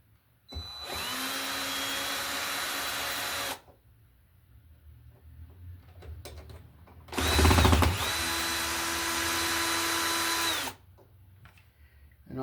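A power drill driving screws into an electrical box during switch loop wiring, two long steady whirring runs of about three seconds each, loud and close, with a thud and quieter handling sounds between them.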